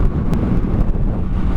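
Steady wind roar buffets the rider of a 2017 Kawasaki Z650 motorcycle with no wind protection, a loud, continuous rush filling the moment with no talk.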